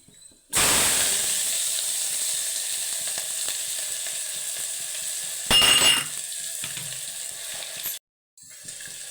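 Loud, steady sizzle as whole spices such as cinnamon, cloves, bay leaf and star anise fry in hot ghee, close and continuous, with a short burst of stirring and a brief cutoff near the end.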